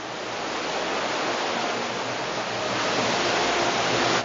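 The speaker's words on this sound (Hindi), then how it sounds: "उफनती गंगा की लहरें इस घाट को लील जाना चाहती हैं।" Swollen Ganga river surging against Manikarnika Ghat in Uttarkashi during heavy rain, a loud, continuous roar of rushing water that builds slightly and never lets up, with no voices.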